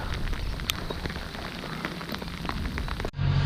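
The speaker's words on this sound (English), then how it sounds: "it's raining a little bit" Light rain falling outdoors during a surf fishing trip near a spring storm, a steady close hiss of drops pattering on surfaces, cut off abruptly near the end by a louder low rumble.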